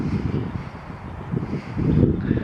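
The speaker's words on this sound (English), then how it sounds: "Ooh, the wind. It's windy." Wind blowing outdoors buffets the microphone in low, uneven gusts that swell louder toward the end, with no other clear sounds.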